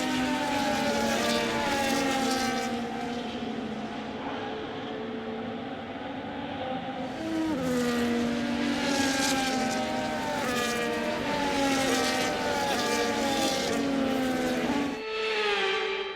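Formula 1 race cars from the F1 25 video game drone steadily through a formation lap, with high engine notes rising and falling across the field as cars pass near and far.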